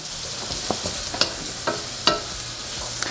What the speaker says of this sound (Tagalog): Lulutuin lang natin to onion maigi hanggang sa mag-caramelize na siya